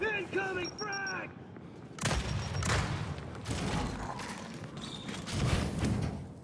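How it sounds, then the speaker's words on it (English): A frag grenade explosion in the video game Gears 5: a heavy boom with rumbling blasts and gunfire following some early synthetic tones, loud and close, with speech mixed in. "Incoming frag!"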